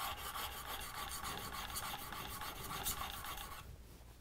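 A blade rubbed on a fine sharpening stone gives a steady, close, rhythmic rasp of scraping strokes that carries on evenly and then stops just before the end.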